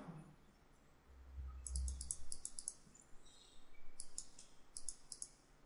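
Quick bursts of sharp computer mouse clicks, a rapid cluster and then a second run of clicks, faint and close, over low background rumble.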